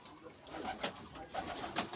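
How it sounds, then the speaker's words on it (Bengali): Racing pigeons coo softly in their coop, a few faint, low calls in quick succession over a quiet background. "রেসার কবুতর কিন্তু অনেক উড়ে"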